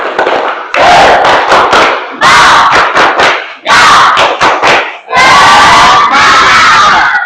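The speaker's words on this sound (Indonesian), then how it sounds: "Tepuk semangat dulu." A school audience at a teacher-training session in Palembang performs the tepuk semangat clapping chant, loud rhythmic bursts of group clapping and shouted cries in several rapid phrases, with brief pauses between them.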